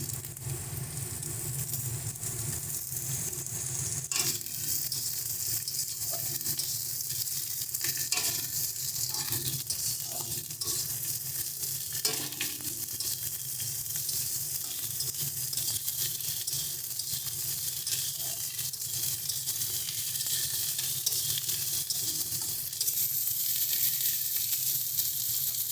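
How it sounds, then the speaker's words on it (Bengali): Ridge gourd frying with browned onions in a pan gives off a steady, dense sizzle with occasional stirring scrapes, close and continuous throughout. "ঝিঙাটা আমাদের ভাজতে ভাজতে নরম হয়ে জল ছেড়ে দিয়েছে"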